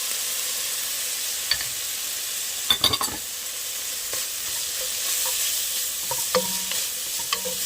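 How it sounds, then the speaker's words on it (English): Onion sautés with bacon in a pot for Zuppa Toscana, giving a steady soft frying hiss with a few sharp utensil clinks and scrapes against the pot, close and unvoiced. "Now, you add the onion because you want the onion to saute as well."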